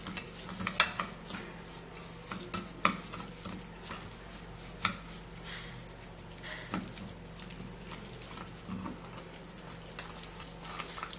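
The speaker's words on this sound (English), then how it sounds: "So we're going to be stirring and mixing all of the ingredients together." Sugar and Johnson baby oil stirred together for a homemade lip scrub, a soft scraping patter of utensil against a small dish with a few sharper clinks, steady and close, no talking.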